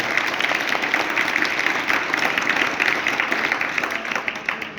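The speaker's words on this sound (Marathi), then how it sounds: "सर्व विद्यार्थ्यांनी एकदा जोरदार टाळ्या वाजवून स्वागत करायचं" Students at a parents' meeting applaud to welcome the parents, a dense steady burst of clapping from a large group held at full volume throughout.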